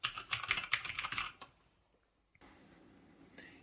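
Rapid, crisp clicking from an ABKO K570 mechanical keyboard with blue switches, a steady run of close keystrokes that stops abruptly, then a faint hiss of room noise.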